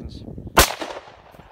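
A single 5.62 full metal jacket round fired outdoors while camping, one loud, sharp crack close by with a brief fading tail, after a low murmur.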